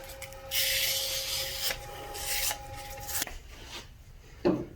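Rough, rasping sandpaper, 400 grit, scrubs against a resin pen spinning on a lathe at 1,000 RPM in several bursts, with a steady whine running underneath and a short knock near the end.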